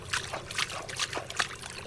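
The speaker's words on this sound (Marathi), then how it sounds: "चिकन चांगलं आता स्वच्छ धुवून घेते." Raw chicken being washed by hand in water in a vessel, with close, irregular sloshing and splashing pulses that come and go in quick succession.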